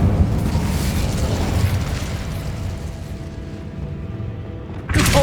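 The Incendio fire spell in Hogwarts Legacy erupts as a roaring, fiery blast that swells and slowly dies away, followed by a sharp new burst at the very end.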